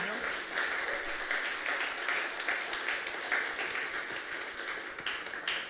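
A church congregation gives a loud round of applause to the Lord, a fairly faint, continuous patter of many hands with murmuring voices beneath.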